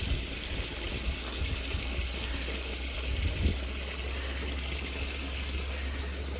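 A 40,000 liter water tank on a blueberry farm filling from a borehole through an automatic fill system: a steady gushing pour with a low constant hum underneath, continuous and moderately loud, with no voices.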